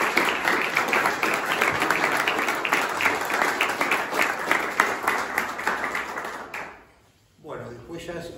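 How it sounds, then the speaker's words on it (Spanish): An audience applauds a guest with dense, sustained clapping for several seconds, which fades out abruptly before a brief voice follows. "Así que pido otro aplauso para él."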